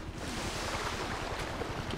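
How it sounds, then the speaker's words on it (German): A jet ski skimming over water in GTA V, giving a steady rough splash and engine churn with wind-like noise, close and continuous without speech. "Das scheint wieder ein Jetski-Rennen zu sein."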